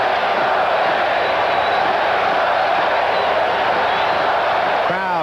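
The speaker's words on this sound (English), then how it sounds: "Crowd trying to will its ball club to get a move on." A packed stadium crowd at Game 5 of the 1988 World Series between the A's and Dodgers, a steady, loud roar of cheering and chanting that fills the whole stretch, far-off and broad, with a broadcaster talking over it.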